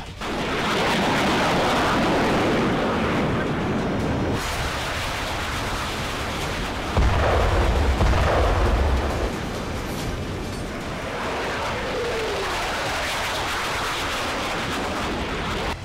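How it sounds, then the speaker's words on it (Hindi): A SCALP cruise missile launch and explosion produces a sustained, loud, broadband roar, with a deeper rumbling burst in the middle before the rushing noise carries on to the end. "ये मिसाइल है स्कैल्प।"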